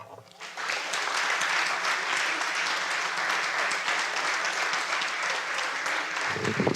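Sustained applause from an audience at a World Refugee Day celebration in Salt Lake City, a dense wash of clapping that swells in quickly and stays steady for several seconds before stopping abruptly.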